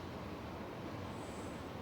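A train rolls along rails in a factory-building video game with an offshore nuclear power plant, a faint, steady low rumble that stays even for the whole short stretch with no voices.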